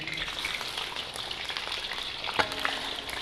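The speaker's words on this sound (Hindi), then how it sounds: "जैसे ऑयल गर्म हो जाएगा इसमें हम लोग चिकन डाल देंगे" Chicken pieces sizzling in hot oil in a pan for a Cholistani chicken karahi, a steady close broadband crackle with a sharper pop near the middle, no voices.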